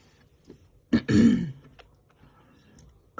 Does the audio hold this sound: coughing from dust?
yes